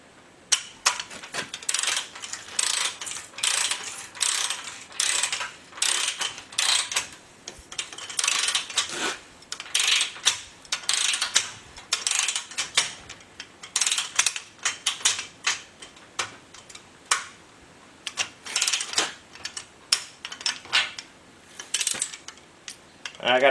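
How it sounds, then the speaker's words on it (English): A wrench works a split nut on a Jeep Dana 30 steering knuckle during a ball joint install, giving rapid, loud metallic clicks and clinks in continuous bursts close by. "once the bottom's torqued, we're going to go after this split nut here"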